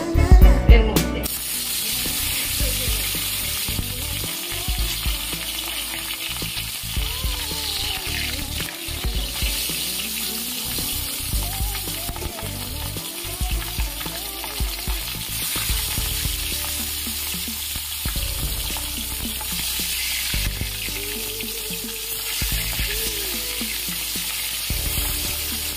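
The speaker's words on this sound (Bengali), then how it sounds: "কড়াই গরম হয়ে গেছে, তেলও দিয়ে দিয়েছি। এবার একে একে মাছ ছেড়ে দেব এর মধ্যে।" Fish pieces fry one after another in hot oil in a wok, making a loud, continuous sizzle with crackling spatters and occasional louder bursts that runs for about half a minute, close up with no voices.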